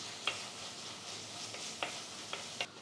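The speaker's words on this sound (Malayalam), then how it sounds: "വെളുത്തുള്ളി ചതച്ചതും കുറച്ച് കറിവേപ്പില ഇതൊന്ന് വഴറ്റി കൊടുക്കുക" Crushed garlic and curry leaves sauté in a pan for a fish curry, giving a soft continuous sizzle broken by a few light ticks of a spoon against the pan.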